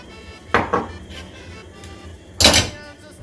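Food tipped into a pan lands with two clattering bursts early on and a louder clatter near the end, with quieter kitchen knocks between them.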